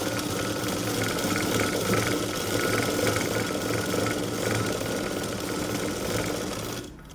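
A sewing machine stitching a folded cloth strip onto a large-size blouse sleeve, a fast continuous mechanical whirr that stops abruptly at the end.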